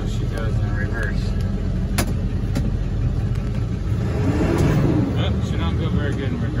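Engine of a 2000 Ford F-550 truck running while it moves, a steady loud rumble with engine surges, close up, with someone talking in the cab.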